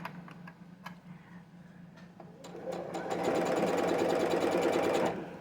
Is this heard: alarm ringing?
no